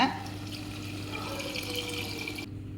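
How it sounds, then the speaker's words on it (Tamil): Water runs steadily into a cooking pot of rice and salt, a continuous splashing pour with a faint ringing tone, stopping abruptly near the end. "சாப்பாட்டுக்கு தேவையான தண்ணி ஊற்றிக்கலாங்க"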